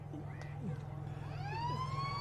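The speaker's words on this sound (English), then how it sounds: "He was glad for that siren." A long, loud siren sounding at an Australian football league season opener in the Central Wheatbelt, rising in pitch and holding over a steady low drone of crowd and ground noise.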